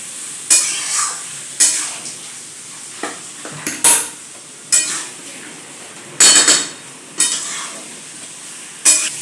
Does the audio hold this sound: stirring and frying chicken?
yes